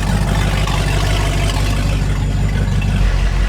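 A Mercruiser 502 EFI V8 in a 1995 Fountain 24CS boat idles while warming up, a loud, steady low rumble with a constant wash of noise and no talking.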